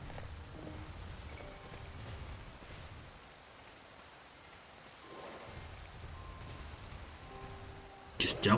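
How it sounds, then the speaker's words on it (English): Steady rain hisses in a Pokémon Legends Z-A game scene, a continuous wash of falling water that dips and swells before a sharp burst at the end. "And it is raining, so that is helpful."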